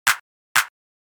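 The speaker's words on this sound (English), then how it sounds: "The regular clap would sound like this." Two sharp hand claps, evenly spaced about half a second apart, dry and crisp with no trailing echo.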